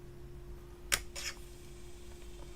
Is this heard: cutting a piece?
yes